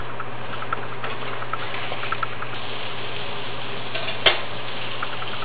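A veggie burger patty sizzles in a pan after flipping, giving a steady close frying hiss with light crackles and one sharp tick near the end, alone without talk.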